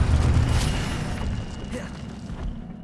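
Incendio fire spell cast in Hogwarts Legacy, a heavy boom at the start with a crackling burst, then a fading rumbling tail and a softer thud near the end.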